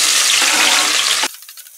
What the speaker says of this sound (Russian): Порезанный лук на хорошо разогретую сковородку с растительным маслом.